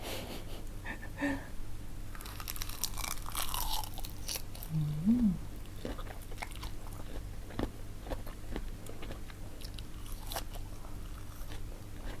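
Close chewing and biting of crispy seaweed and soy-pickled shrimp with garlic and chili, quiet repeated crunches and mouth sounds with light breathing, no talk.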